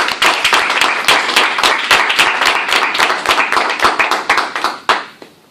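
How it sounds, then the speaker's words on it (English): An audience applauds before a cultural artifact speech, with dense, close, steady clapping from many hands that thins out and dies away in the final second. "Big round of applause"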